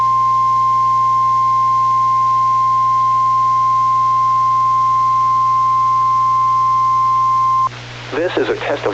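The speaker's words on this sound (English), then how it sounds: "This is a test of the emergency alert system and NOAA weather radio's warning alarm." A NOAA Weather Radio warning alarm test: a loud, steady single-pitched tone held for several seconds, then cutting off abruptly as a voice begins speaking.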